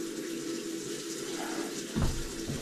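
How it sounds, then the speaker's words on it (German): Water runs into a drain pipe during pipe cleaning, a steady close trickle and hiss with a brief louder gurgling splash near the end. "Dann lassen wir mal ein bisschen mal Wasser noch."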